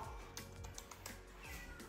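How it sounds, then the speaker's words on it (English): A cat meows a few times at close range in a bathroom over a faint background hum, with light clicking sounds in between. "My cat's in here."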